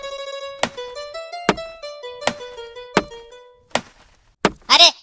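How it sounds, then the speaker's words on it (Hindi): Repeated axe chops on wood, about six sharp thunking strikes at a steady pace with ringing tones between them, ending in a brief burst of other noise. "अरे ये तो पेड़ काटने की आवाज है।"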